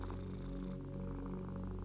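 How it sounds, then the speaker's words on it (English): A cat purrs steadily and continuously up close, a soft low rumbling drone with no pauses and no voices. "Visualize the purring frequency"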